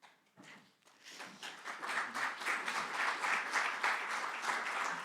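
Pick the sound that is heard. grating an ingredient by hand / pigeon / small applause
small applause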